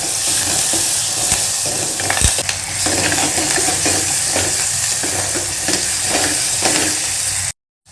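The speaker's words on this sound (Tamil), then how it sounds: "கருவேப்பிலை 2 பீஸ் போடுறேன்." Two pieces of curry leaf crackle and sizzle loudly in hot oil for a manathakkali kuzhambu, a dense continuous frying hiss with occasional sharp pops, ending abruptly in silence.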